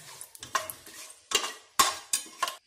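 Whole spices, including poppy seeds and a bay leaf, stirred in a pan for mutton biryani, with a few sharp scraping strokes of a spoon against metal and a faint background sizzle, close and alone.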